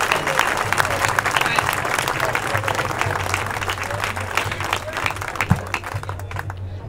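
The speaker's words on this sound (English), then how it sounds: "let's give Ben Boyce a round of applause" A crowd at an Occupy Santa Rosa rally claps for speaker Ben Boyce, dense sustained applause with cheers and voices, holding steady for several seconds before thinning toward the end, with a low hum underneath.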